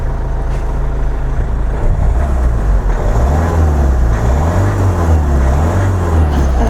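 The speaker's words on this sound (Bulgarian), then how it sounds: "Да дадем малко газ." Kia Ceed 1.6 CRDI diesel from 2013, its engine revving up and down in steady swells, loud and close, with a low droning hum throughout and no talk.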